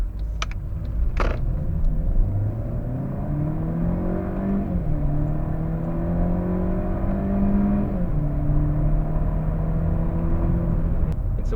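A Mercedes C180 W204 with a 1.6-litre inline-four single-turbo engine making 154 horsepower revs hard in sport mode, still in stock tune. Its pitch climbs and settles in long sustained pulls under a steady, loud drone with no talking.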